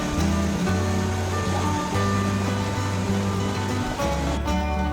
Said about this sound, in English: Up close, the waterfall felt powerful, and right below it, someone was fishing.